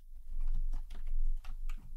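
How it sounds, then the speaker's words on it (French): Close, crisp keyboard typing in an ASMR setting: irregular bursts of clattering key presses, loud and near, with no talking. "Je me suis munie d'un clavier car je sais que vous aimez beaucoup"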